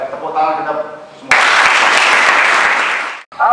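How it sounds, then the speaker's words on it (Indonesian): A voice speaks, then a crowd of students at a school police outreach event in Indonesia bursts into loud clapping that holds for about two seconds and cuts off before speech resumes. "tepuk tangan kita semua."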